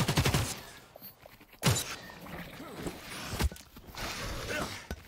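Gunfire in The Cycle: Frontier, with sharp shots at the start and bursts near the second and midway marks, then denser rattling activity toward the end amid game ambience.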